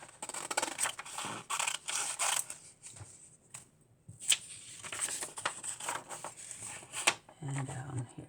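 Scissors cutting through paper to trim out a doll pant pattern, close-up crisp snipping and rustling in repeated bursts with short pauses, nearby and moderately loud.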